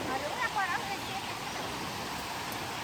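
Mountain river rushing near the village of Gorkhe in Darjeeling, a steady broadband wash of flowing water heard throughout, with faint voices briefly audible early on.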